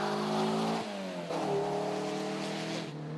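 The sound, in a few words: 1967 Renault Dauphine racing up a hill climb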